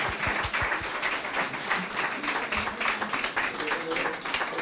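Audience applause at an outdoor Epiphany concert in Sant'Olcese, heard as steady, dense clapping from a crowd that sustains throughout, with a few sharper claps standing out near the start.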